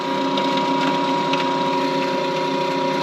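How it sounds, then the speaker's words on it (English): A motor running steadily with a constant mechanical whir and faint ratcheting, its shaft no longer turning because the key has sheared; loud and continuous, with no talking. "Hear that? Oh, just wait, I'll show you. Yeah. This motor's running,"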